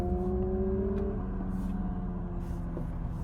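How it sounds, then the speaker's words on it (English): A steady engine drone with a humming tone, like a motorcycle running nearby, continuous and fairly loud throughout, heard from an Acura TL at night downtown. "Sounds like a motorcycle."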